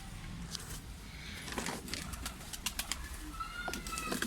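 A tumbler pigeon comes in to its coop with bursts of flapping wings and soft cooing from nearby birds, fairly quiet and close, with no talking.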